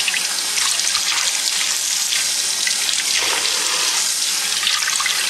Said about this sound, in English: We are going to come over here and rinse this in lukewarm water.